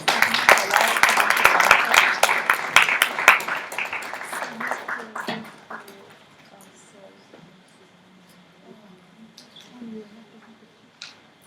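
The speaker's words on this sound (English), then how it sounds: "let's remark this wonderful movement by giving a big round of applause to Unnati and Enami FEM." A big round of applause at a corporate MOU ceremony, loud and dense at first and then thinning into scattered claps and quiet murmuring as it dies away.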